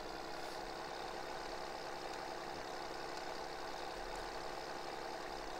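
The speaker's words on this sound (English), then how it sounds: "It is a nice tractor. It's just, I don't really like the sound of it." Tractor engine idling in a farming simulator game, a steady mechanical drone with even low rumble that holds at constant level throughout, with no talk over it.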